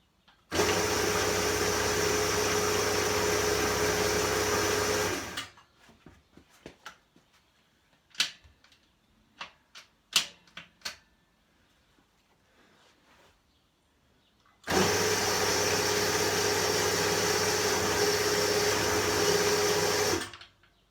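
A BSA A70L Lightning motorcycle engine is turned over without firing after 40 years unused, heard as two long, loud, even mechanical whirring runs separated by a quieter stretch of clicks and knocks.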